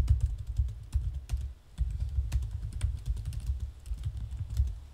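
Fingers tap steadily on a computer keyboard close by, producing a continuous run of light clicking keystrokes with a brief pause partway through.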